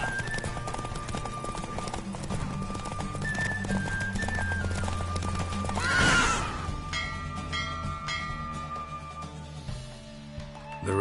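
Roach the horse gallops through a race in The Witcher 3: Wild Hunt, a steady rapid clip-clop of hooves carried over continuous game music and ambience, with a brief whooshing swell midway.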